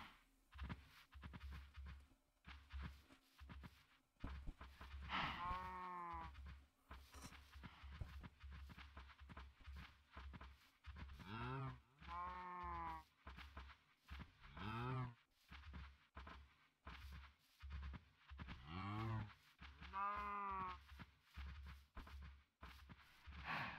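Several cows moo in Minecraft 1.20, drawn-out bellowing calls repeating at intervals over a steady rhythmic thumping of game sounds and footsteps, fairly loud and close.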